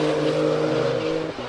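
BMW M4 convertible exhaust while driving, a steady droning engine note with a low rumble held loud and close throughout, dipping and shifting briefly near the end as the revs change.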